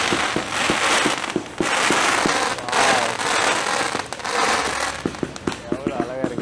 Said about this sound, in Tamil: சிங்கப்பூர்காரங்கெல்லாம் இங்கே ஜேவிக்கு வந்து பட்டாசு வெடித்து ஹரிராயா செலிப்ரேட் பண்ணுறாங்க.